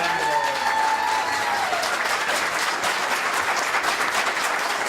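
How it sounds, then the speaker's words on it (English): Audience applause at the 2018 Colleen Pageant for the town of West, a steady, full round of clapping from a crowd, filling the moment alone with a faint tone fading early on. "say one last round of applause"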